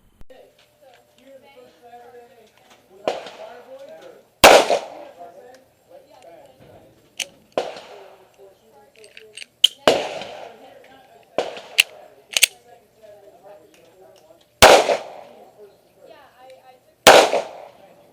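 A Smith & Wesson M&P 9c pistol fires a string of loud, sharp shots at uneven intervals, some close together and others seconds apart, with a person talking faintly between the reports.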